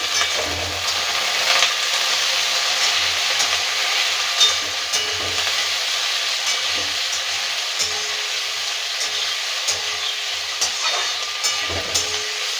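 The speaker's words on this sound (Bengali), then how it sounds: "এবার আলুটা দিয়ে দেবো" Potato pieces fry with lightly browned onions in a pan for a traditional Bengali village curry, a continuous crackling sizzle broken by occasional scraping stirs and light utensil knocks.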